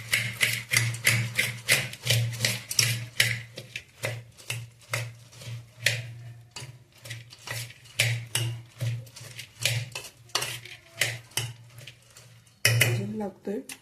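A spoon scrapes and clatters against a bowl while wet bhel puri is tossed with tamarind-jaggery chutney, chaat masala, cumin powder and black salt, giving steady rhythmic clinks close by, with a brief pause before the mixing resumes.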